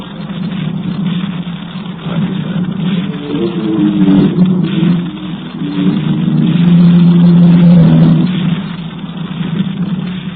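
A taxi's engine idles and then revs as the car pulls away, a close, steady mid-pitched hum that swells and fades without talk.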